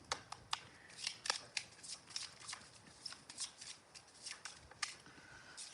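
A deck of tarot cards being shuffled by hand, with a run of crisp riffling snaps and flicks in an irregular rhythm, close and fairly quiet, and no talking.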